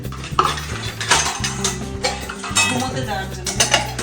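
Dishes, pots and cutlery are washed and stacked in a home kitchen after the night's dinner, with continuous close clattering and clinking of metal and crockery and a faint voice in the background.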